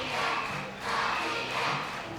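Crowd at a women's squash world championship final cheers and roars in broad swelling waves, loud and sustained, with no talk over it.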